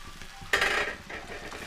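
Crumbled idli and peas stirred in hot oil for idli upma: a low steady sizzle with a sharp scraping stir in the middle and a fainter scrape near the end.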